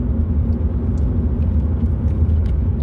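From inside a moving car comes a steady, loud low rumble of engine and road noise that continues without a break and without any talking.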